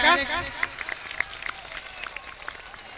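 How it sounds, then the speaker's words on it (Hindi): Scattered applause greets the opening of a mushaira poetry gathering: a brief louder burst mixed with voices at the start, then thinning into sparse, irregular claps. "आप हजरात तालियों से इस्तकबाल कर लें मुशायरे का।"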